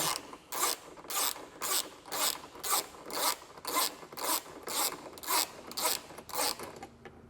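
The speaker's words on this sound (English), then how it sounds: "we do have a 10mm bolt that we'll need to remove on each side" Rhythmic ratcheting of a hand wrench loosening a 10mm bolt on a 2025 Kia Carnival tailgate panel, about a dozen close, evenly spaced clicking bursts with no talk.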